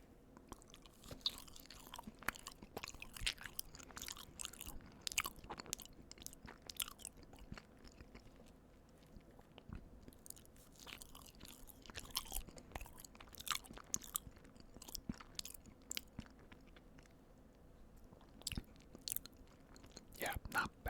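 Walmart chocolate cheesecake is chewed softly and close to the microphone, with wet, sticky bites and mouth sounds coming in irregular bursts over a quiet background, and quiet speech between bites.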